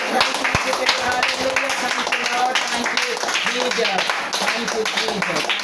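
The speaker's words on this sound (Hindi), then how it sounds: "बोलिए सभी लोग जोरदार ताली बजाएं" An audience at a Hindi-language gathering claps loudly, a continuous patter of hands running throughout beneath voices talking over it.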